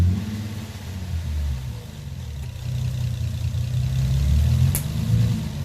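An Infiniti G37 with a nitrous setup idles with a low rumble, then the revs rise and swell into a louder, deeper engine drone. It is heard close up with no talking.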